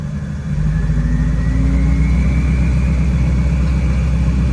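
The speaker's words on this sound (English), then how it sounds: "The rear engine revs up and the front doesn't." Twin engines of the world's largest truck with twin transmissions rev up together, a loud, close, heavy roar that climbs steadily in pitch and holds.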